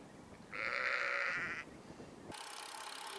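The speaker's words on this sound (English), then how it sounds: "I could hear your lambs." A lamb gives one drawn-out bleat lasting about a second, moderately distant on a roadside, followed by steady wind and road rush.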